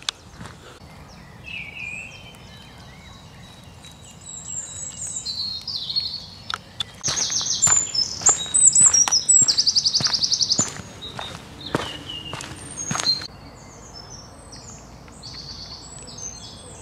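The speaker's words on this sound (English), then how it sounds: "Maybe I should sing along with the birds." Songbirds chirp and tweet in Lickey Hills Country Park, Birmingham: bright, scattered calls building in the middle and fading again, over soft footsteps and light outdoor ambience.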